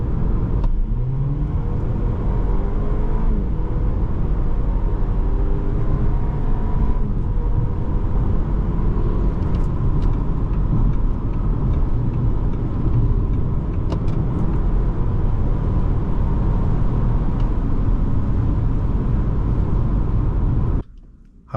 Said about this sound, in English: Today we're driving a 2025 Audi Q5 on the channel